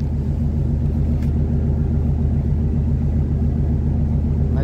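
Car driving and turning near the Wesel railway bridge over the Rhine, a steady low engine rumble and road noise from inside the vehicle, continuous and fairly loud throughout.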